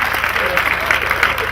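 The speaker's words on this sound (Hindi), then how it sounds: "ताली बजाओ क्योंकि मेरा अपना रचा हुआ श्लोक है" A live audience at a Hindi comic poetry recital applauds a self-written Sanskrit verse, a brief burst of dense clapping with a low steady hum beneath it.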